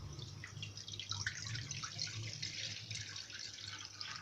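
Water pouring steadily from a measuring vessel into a pan on the stove while making rava kesari, a continuous splashing trickle that stays even throughout with no talk.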